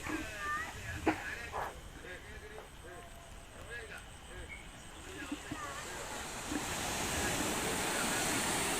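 Night surf washes onto Vizhinjam beach, a soft steady roar that swells louder toward the end, under a quiet voice talking over it early on.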